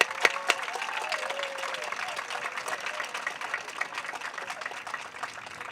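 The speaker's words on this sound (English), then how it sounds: "just look at somebody in a purple shirt and clap like you're crazy" Applause from an outdoor crowd at the Midway Peace Park grand opening, honoring volunteers in purple shirts: scattered sharp claps build into a steady moderate patter, with a few whistles and voices near the start.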